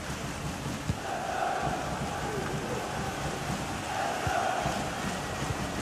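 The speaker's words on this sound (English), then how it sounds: "Well, the crowd are certainly not happy." Disgruntled football stadium crowd in FIFA 23 during a Premier League match between Wolves and Leicester, a broad continuous roar with two swelling waves of jeering, steady and fairly loud throughout.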